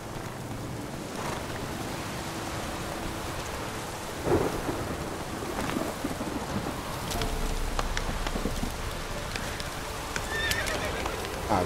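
Roach the horse neighs and clip-clops through a Witcher 3 scene, a brief whinny and hoofbeats set against steady rain and rumbling thunder that fill the whole stretch.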